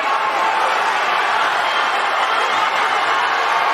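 Arena crowd at a WBO and WBC title unification boxing bout, a steady, dense wash of applause and cheering filling the whole stretch at a constant, fairly loud level.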